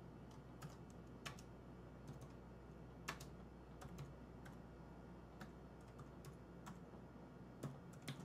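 Keys on a computer keyboard are typed in a quiet, steady patter of soft clicks with a few sharper strokes, close by over a low constant hum, with no one talking.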